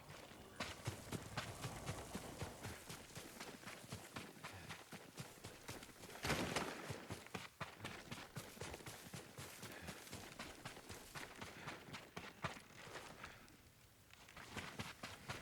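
Horse hooves clip-clop in a video game, a quick, busy run of hoofbeats that keeps going for the whole stretch, with a brief burst of louder sound partway through.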